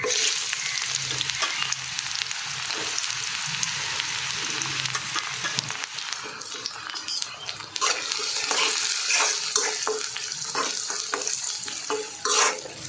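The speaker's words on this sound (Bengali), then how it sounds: "তেল দিয়ে এখন দিয়ে দেবো পেঁয়াজ কুচি" Chopped onions frying in oil in a wok (kadai) for beef biryani, a steady loud sizzle with stirring scrapes and clatters, alone throughout without talk.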